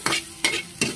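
Onions sauté in a pan, with three quick stirring scrapes in a regular rhythm over a soft, constant sizzle.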